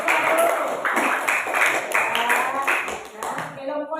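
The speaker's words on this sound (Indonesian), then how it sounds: "tepuk tangan untuk kelompok satu." A small group, likely a classroom, claps for a team of students in quick, fairly regular bursts, close and moderately loud, with voices talking over the clapping.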